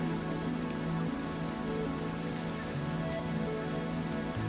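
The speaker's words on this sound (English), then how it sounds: "the rain reaches the ground, the grass, the sidewalks" Steady rain falls on leaves and ground, a constant even patter with no pauses, heard up close and alone.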